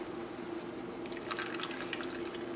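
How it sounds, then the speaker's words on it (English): Cornstarch and water slurry poured slowly into a simmering sauce in a pan, giving soft liquid drips and trickles over a steady low hiss of cooking, fairly faint and without talk. "We're going to slowly add this to our pan, and this is going to help thicken the sauce."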